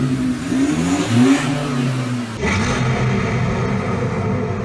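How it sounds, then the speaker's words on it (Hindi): An Isuzu engine starting and revving in a film scene, a loud rumbling roar that swells and then settles into a steady, close mid-pitched drone with no talk over it. "वेल ये जो इंजन की आवाज है ये स्पेसिफिकली इसुजू इंजन की आवाज है।"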